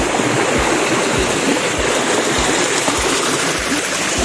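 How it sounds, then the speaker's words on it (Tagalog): A river on a rural farm lot rushes steadily nearby, a loud, continuous broadband wash of flowing water with faint low thumps recurring throughout, with no talking. "dito po may madadaanan tayong itong ilog papunta dun sa property"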